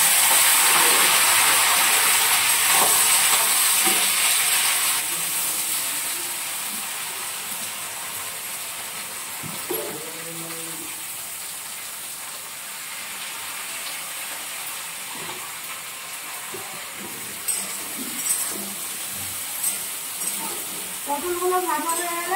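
Slices of pointed gourd fry in hot oil in a home kitchen, a continuous hissing sizzle that is loudest at first and then settles lower, with clatter and faint voices near the end.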